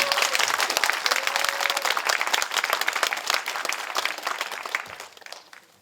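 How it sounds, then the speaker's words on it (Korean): Steady applause from an audience at a provincial investment-attraction award ceremony, dense and sustained for several seconds before fading toward the end. "박수 한번 보내주세요"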